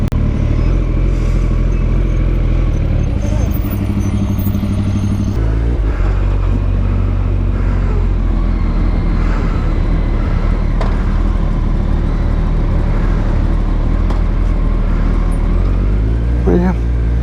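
A fully loaded Can-Am three-wheel motorcycle rumbles loudly past, its engine note surging and fading against steady road noise, with people talking nearby.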